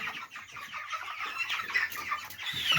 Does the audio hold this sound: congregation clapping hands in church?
no